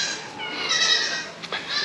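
Goats bleat as they are let out of their pen on a farm. There are several close, wavering cries that overlap and fade, then a short bleat near the end.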